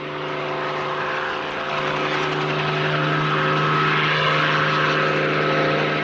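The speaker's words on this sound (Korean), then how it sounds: "출항 준비를 위해 수갑을 끼고 헬기에 오르는 최 기장." A helicopter engine and rotor drone steadily and loudly as a pilot boards for a flight in South Chungcheong, with no speech over the sound.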